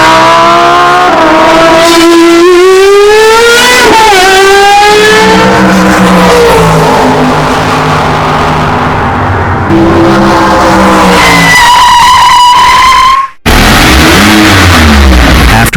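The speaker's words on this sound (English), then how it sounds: "leading to a short car chase" A short car chase in a film: loud car engines rev hard, their pitch repeatedly climbing and falling through gear changes. Tyres squeal briefly, and the sound cuts off abruptly near the end.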